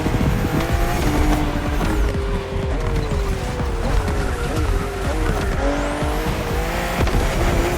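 BMW M2 and M4 cars racing on a narrow, twisting road in The Crew Motorfest video game, with loud continuous engine drone, shifting revs and tire squeal through the corners, and no talking.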